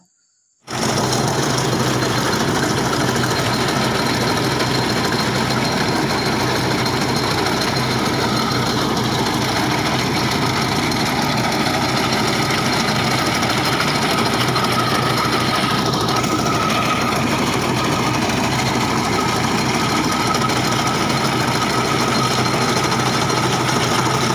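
A machine for cutting sorghum stalks runs with a steady, loud engine drone and mechanical rattle, continuous and close for the whole stretch with no talking.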